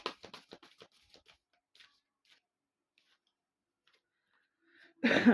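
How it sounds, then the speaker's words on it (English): A deck of tarot cards is shuffled in a short, loud riffling burst near the end, preceded by faint scattered clicks and some brief quiet speech at the start. "These cards are so hard to shuffle."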